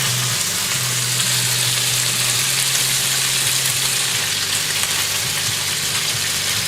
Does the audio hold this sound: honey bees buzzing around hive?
no